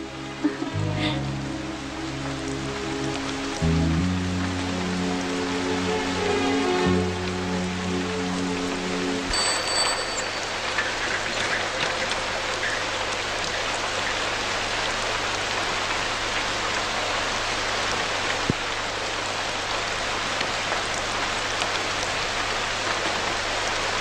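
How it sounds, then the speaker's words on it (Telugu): Steady rain falls at night, a dense even hiss throughout, with music-like tones in the first part before the rain continues alone. "పైగా వర్షం."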